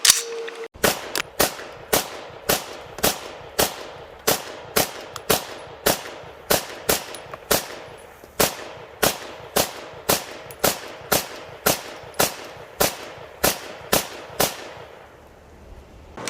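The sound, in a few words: Colt R633 9mm AR15 rifle gunshots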